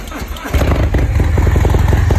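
A modified Fat Bob 114 motorcycle engine fires up after a brief quiet moment and settles into a loud, throaty, throbbing idle with a steady, rapid pulse.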